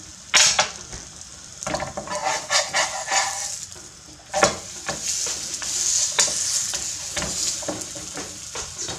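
Beef and cheese quesadilla sizzling steadily in a frying pan, with several sharp scraping and clattering knocks of a utensil against the pan over the continuous fry.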